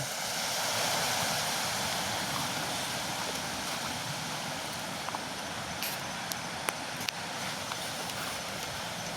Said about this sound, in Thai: นี่คือฝายอ่างน้ำล้น